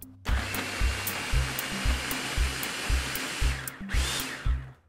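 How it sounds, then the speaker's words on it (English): Electric grinder blitzing dry mozzarella, coconut flour and baking powder: a loud, steady whirring roar with a regular pulsing low thump about twice a second, briefly dropping off and then restarting near the end. "Okay, so I'm just going to grind everything up."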